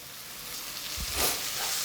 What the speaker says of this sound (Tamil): தக்காளியை சேர்த்து வதக்கி விட்றேன்